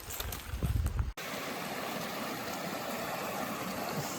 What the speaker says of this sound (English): CMC Valley Creek.